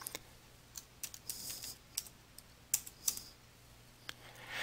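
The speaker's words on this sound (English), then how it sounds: "type the name of the category into the text box" Someone types on a computer keyboard, close by, with irregular bursts of crisp keystrokes and short pauses in an otherwise quiet room.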